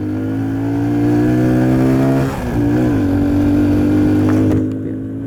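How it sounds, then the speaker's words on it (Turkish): A Kuba X Boss 110cc motorcycle engine is held at full throttle during a test ride, giving a loud, close, sustained buzzing drone that dips briefly and then climbs again, with no speech. "motor ben 110'luğum diyor yani bu bakın tam gaz tepkime"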